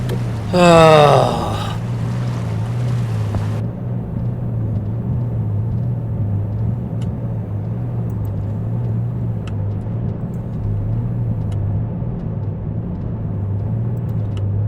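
A ship's engine rumbles in the simulation game Seafarer: The Ship Sim, a steady, pulsing low drone that continues alone after a brief spoken line at the start.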